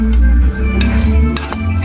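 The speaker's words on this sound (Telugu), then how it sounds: "సన్నటి సగపైన వేపుకోవాలి పచ్చిమిరకాయలు" Green chillies frying with tomatoes in a pan for a tomato and green chilli chutney, giving a close, steady sizzle broken by a few stirring scrapes over about two seconds.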